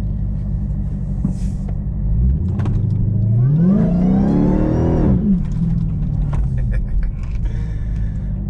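Car engine revving up in a sharp rising sweep that peaks and falls back, deep rumble underneath, loud and nearby, with a few scattered background noises before and after.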